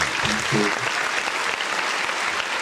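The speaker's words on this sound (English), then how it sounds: "Round of applause to you, man." A round of applause during a mock draft discussion show: a brief voice at the start, then continuous clapping rolling on steadily underneath.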